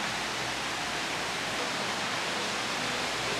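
An indoor waterfall inside a store pours as a steady, dense rushing hiss, loud and close throughout with no break.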